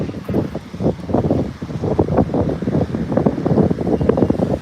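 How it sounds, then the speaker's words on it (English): Gusty wind buffets the microphone outdoors in Punta Arenas, a constant rough roar with rising and falling pulses and no voices. "what's not nice though is that the wind is blowing"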